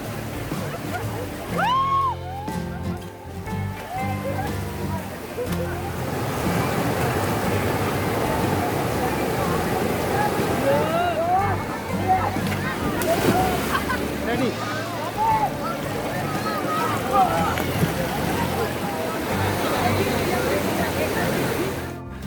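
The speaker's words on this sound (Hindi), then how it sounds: "पत्थरों से टकराकर कल कल बहते पानी में तमाम लोग स्नान, मस्ती और उछल कूद कर रहे थे" Water rushing and splashing over rocks at Siddhnath ki Dari waterfall, a continuous close roar with shouts and voices of bathing, playing crowds mixed throughout.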